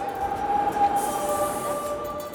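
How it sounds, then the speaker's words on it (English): Steady rumbling train ride on a line heading about 20 kilometers out of Barcelona, a constant close roar of wheels on rails with faint high squeals and no talking. "I'm hopping on a train with tour guide Maria Jesus to head 20 kilometers out of town"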